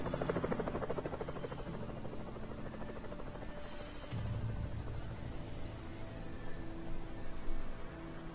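Helicopter rotor drone from the Evil Genius video game, a steady continuous whir and buzz at moderate level throughout, with a low rumble swelling midway and no speech.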